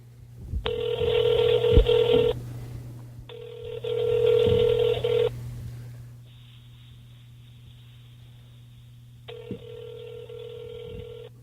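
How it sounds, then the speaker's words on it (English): A telephone call rings out alone: steady rings repeat in long buzzing bursts over a low hum, followed by one more ring after a quieter tone. "He's actually getting Todd on the phone."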